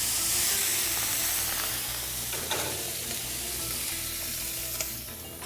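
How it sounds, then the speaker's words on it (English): Butter and tequila sizzle hard in a hot pan with fish, a steady broad frying hiss with occasional sharp crackles and spits, close and loud with no talking. "At this point, I'll add some whole butter and a little tequila."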